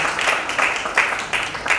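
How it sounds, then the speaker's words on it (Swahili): Audience applause at an executive breakfast networking event, dense clapping from many people with recurring louder bursts, continuous and fairly close. "Makofi mengi sana kwa Haika Lawere"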